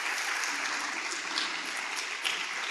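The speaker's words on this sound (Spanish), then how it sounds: "¿Quién le da un aplauso al Señor?" A church congregation applauds during a sermon, a dense, steady wash of many hands clapping together throughout, fairly loud and close with no talking over it.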